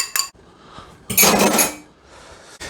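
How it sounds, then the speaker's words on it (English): An egg is beaten with a utensil in a bowl: a couple of quick clinks, then a short burst of rapid whisking, and a faint final tap, with no talking. "I'm going to beat up that egg."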